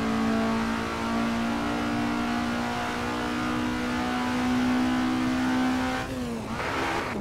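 A race car engine in the Assetto Corsa video game drones loudly at high revs and holds a steady pitch, then lifts and drops sharply near the end as the throttle comes off.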